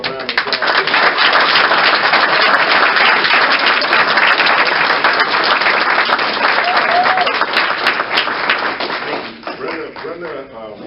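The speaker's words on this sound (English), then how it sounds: "Would you all give her a round of applause?" A hall full of guests at an anniversary event breaks into loud, dense clapping that holds for about nine seconds, then tapers off as a speaker's voice returns.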